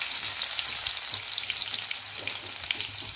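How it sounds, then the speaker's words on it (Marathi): Cumin and mustard seeds spitting in hot oil in a pan, a dense, continuous crackling sizzle that stays loud and close throughout, with no voices. "तेल इथे छान गरम झालेलं आहे. त्याच्यामध्ये आता जिरे आणि मोहरी टाकून घेऊया."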